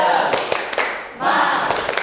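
A class chants and claps in rhythm for a 'tepuk semangat' classroom cheer, with two sharp loud bursts of hand claps and group voices, separated by a short pause, close and energetic.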